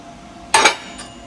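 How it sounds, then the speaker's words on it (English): Hammer knocking small bits of slag off a plasma-cut metal piece from a Langmuir Systems Crossfire Pro plasma CNC table: one sharp metallic clink, then a fainter tap a moment later, close by. "this like these little pieces of slag, they just knock right off with a hammer"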